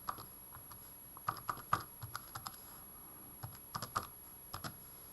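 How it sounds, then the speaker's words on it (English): Numbers go into a calculator by hand in a quiet room: light plastic key taps, close and soft, some in short quick bursts and some spaced apart, with no talking. "we can go to your calculator and type it in carefully."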